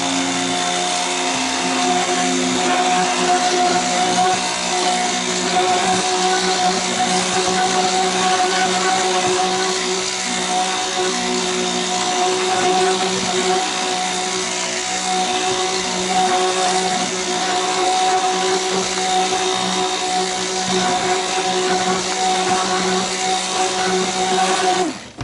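A stick blender whirs steadily through cold process soap batter, a continuous close motor drone with a fixed tone running for about twenty-five seconds without pause or speech.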